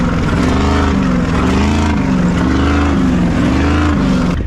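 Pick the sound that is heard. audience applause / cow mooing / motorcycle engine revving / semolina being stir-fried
motorcycle engine revving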